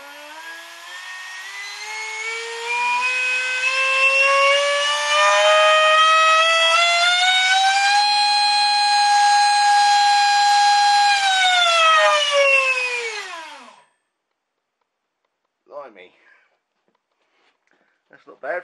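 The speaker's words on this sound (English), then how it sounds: "Not bad for a 60mm fan." A 60mm electric ducted fan with a 3900 kV motor on a 4-cell pack spins up to a loud, rising whine, holds steady at high pitch for several seconds, then winds down to silence, followed by faint handling noises.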